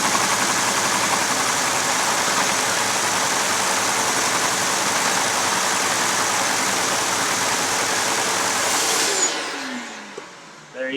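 A LEGO MEGA i4 engine motor runs on a LEGO dyno, its friction bogging the motor down: a loud, steady, dense whirring drone that holds for about nine seconds, then winds down with a falling pitch and fades out.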